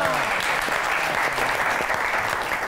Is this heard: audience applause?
yes